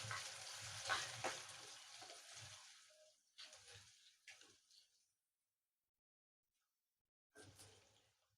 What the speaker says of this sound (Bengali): হালকা ভেজে নিলাম।